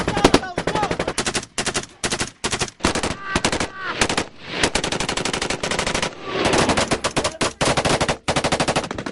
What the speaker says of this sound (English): The Taliban open fire from a few hundred yards away.